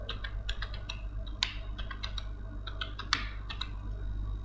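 Typing on a computer keyboard while entering address details into a mail merge form, with a steady run of close, crisp key clicks in irregular bursts over a low background hum.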